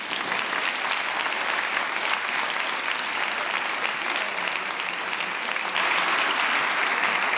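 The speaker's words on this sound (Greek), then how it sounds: "Χειροκροτήστε τώρα." Sustained audience applause from a seated crowd at a conference hall talk, dense and steady for several seconds at moderate distance, swelling slightly louder toward the end.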